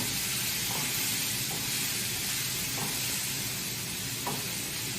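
Peppers frying in a small, overcrowded pan, a loud, dense, continuous sizzle and hiss close up, with a few soft stirring knocks spaced through it and no talking.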